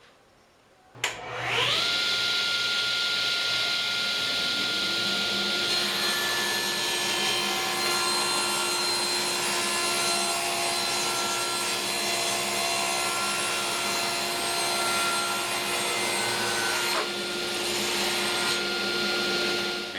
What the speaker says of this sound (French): je vais simplement utiliser mon banc de scie et scier dans mes craques